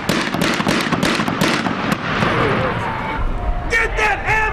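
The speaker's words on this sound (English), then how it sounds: "I would estimate well over 100 shots fired this evening." Rapid gunfire from a nighttime shooting on a residential road, a dense run of loud sharp cracks and bangs at close to middle distance that thins out, with shouting and voices mixed throughout.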